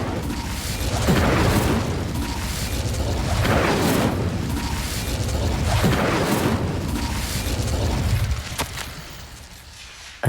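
Incendio fire spell blast in the video game Hogwarts Legacy, a series of deep rumbling booms repeating every couple of seconds amid a roaring fiery wash, fading near the end.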